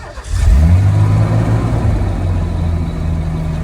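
A car engine cranks and catches after stalling, then revs up loudly and settles into a rough, throbbing high idle close by.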